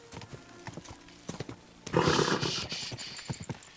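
Horse hooves clip-clopping in Kingdom Come: Deliverance II, a steady run of close, repeated thuds that grows louder and busier partway through, with a brief whinny-like tone mixed into the game audio.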